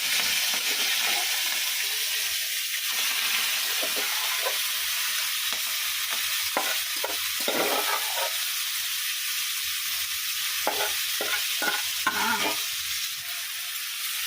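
Prawns fry in hot oil with a constant, bright sizzle and hiss, broken by frequent clinks and scrapes as they are stirred in the pan.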